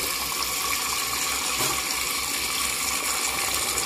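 Water runs from a kitchen tap into a cooking pot, a steady hissing gush that stays constant and close throughout.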